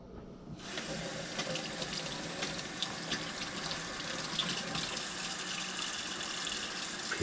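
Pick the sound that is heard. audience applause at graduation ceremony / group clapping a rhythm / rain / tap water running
tap water running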